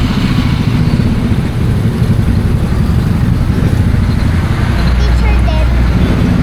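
Busy road traffic with motorcycles passing and idling nearby, a dense steady rumble of engines and road noise heard from a moving bike, with people talking over it.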